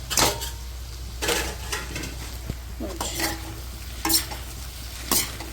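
A spoon stirs cauliflower and potatoes in a pan over soft, steady frying sizzle, with repeated scraping strokes and metallic clinks against the pan, close up.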